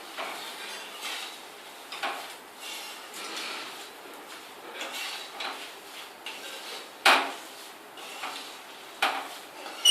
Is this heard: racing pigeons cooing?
no